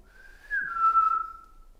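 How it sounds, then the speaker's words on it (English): A single sustained human whistle, a clear steady tone that slides slightly downward and fades out after about a second. "That's a vet's whistle."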